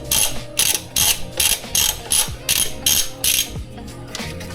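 A hand ratchet loosens the throttle body bolts on a RAV with a ZZFE engine, giving a series of about nine sharp, close clicking bursts in an even back-and-forth rhythm.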